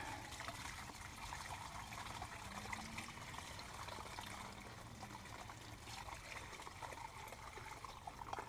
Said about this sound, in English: this water hose, clean this out.